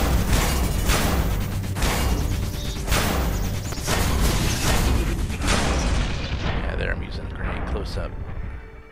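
Grenades explode in Transformers Universe Online as heavy rumbling booms roll through a noisy battle, several bursts in a row that fade toward the end, with someone talking over them.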